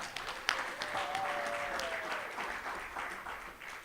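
Audience applause at an annual meeting, a steady wash of clapping from a crowd lasting several seconds, with a faint tonal whistle or feedback line running through it.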